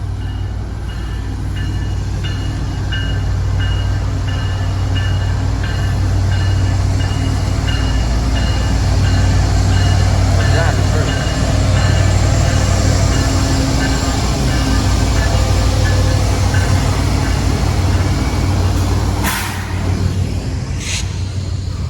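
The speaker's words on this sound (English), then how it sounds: "we got a train here" A train rolls past Depew Amtrak station with a loud, continuous rumble and roar that holds steady throughout, broken near the end by a couple of sharp squeals or clanks.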